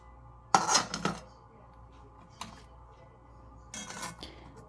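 Metal wok set down on a stove while preparing Korean seafood stew, heard as two bright clanking bursts close by, followed by a short knock and another rattling clatter, with quiet room tone between.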